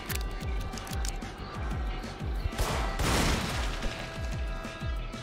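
Gunfire in the horror video game In Sound Mind comes as rapid repeated shots in a loud volley, with a heavier burst partway through, set over a tonal game soundtrack.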